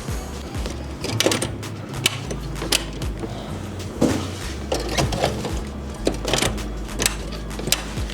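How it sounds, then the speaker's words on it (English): Embroidery machine stitching hats for 3D puff embroidery, a steady mechanical whirring with repeated clacking ticks and clicks at an even pace, heard close up throughout. "We head over to our embroidery machine and we pop them in."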